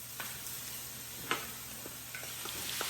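Chopped onions cook in a skillet alongside browned pork chops, giving a soft, steady sizzle with a few light scrapes and clicks of stirring. No one speaks.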